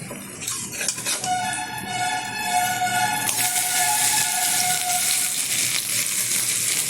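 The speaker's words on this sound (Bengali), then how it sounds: "বড়াগুলো একটু উল্টে দিচ্ছি।" Lentil-style fritters, or bora, are turned over in hot oil. A few scraping clinks of the spatula come first, then a broad, steady sizzle of frying swells and holds loud to the end.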